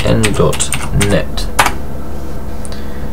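Quick bursts of keystrokes on a computer keyboard as a web address is entered into a browser on Windows 7, a close, brisk clatter in short runs that then falls quiet.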